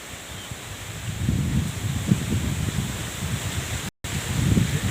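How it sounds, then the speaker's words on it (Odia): Wind blowing over floodwater, a steady low rushing roar with gusty swells and a brief dropout, no talk. "ପବନ ରହୁଛି"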